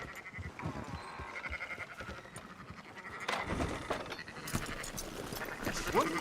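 Sheep bleat intermittently in the video game Red Dead Redemption 2 over a busy, clattery background, with a few louder calls standing out near the end.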